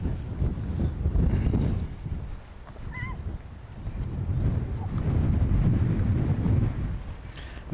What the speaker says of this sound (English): Man, it's breezy.